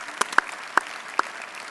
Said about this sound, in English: Would you give them a round of applause, Tom?